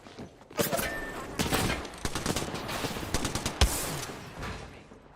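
Gunfire rings out in the Apex Legends battle royale game: several rapid bursts of shots and single sharp cracks, loud and close, in an irregular fusillade with brief gaps.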